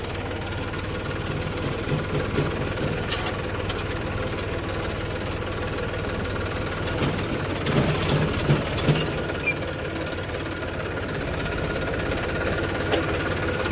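A tractor engine runs steadily throughout, a continuous low rumbling chug with slight knocking, close and fairly loud.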